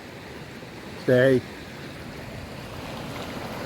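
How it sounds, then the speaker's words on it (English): Waterfall at the top of the falls beside a stream on the Appalachian Trail: steady broad rushing of water throughout, with a single short spoken word in the middle. "That's the top of the falls."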